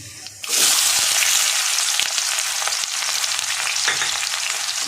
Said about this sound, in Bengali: কালো জিরে 2 মিনিট ভাজা করে নিয়ে সুন্দর একটা গন্ধ বেরোলে